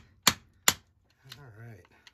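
A hammer strikes the welds on a scrapped Sony audio/video control center, giving two sharp, close metallic hits about half a second apart, followed by a short spoken remark.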